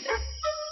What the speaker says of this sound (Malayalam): ഈ പട്ടി എന്തിനാ അങ്ങനെ കിടന്ന് പറിക്കുന്നത്?